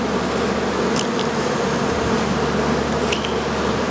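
Dense, continuous buzzing of many dark honey bees swarming around an open hive, loud and close with a steady drone and no voices.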